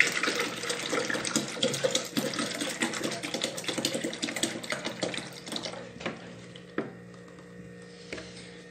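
One litre of milk poured into a mixture for a milk cake, a steady close splashing stream with fine crackling texture that thins out and tapers to quiet after several seconds, with no talk.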